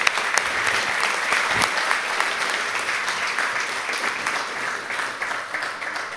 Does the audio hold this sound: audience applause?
yes